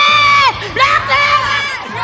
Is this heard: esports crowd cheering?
yes